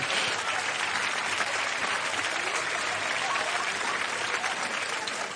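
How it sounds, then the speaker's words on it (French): Steady, dense applause from a large audience at a stage hypnosis show, sustained and even throughout with no voices standing out. "Et on peut tous les applaudir, mesdames, messieurs."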